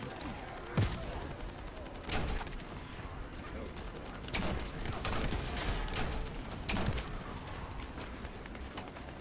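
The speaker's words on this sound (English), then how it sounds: "I'll get my bigger gun. There we go. At least my longer range gun." A longer-range gun fires in The First Descendant, a sharp, fairly loud shot every second or two, with layered explosive game effects in between.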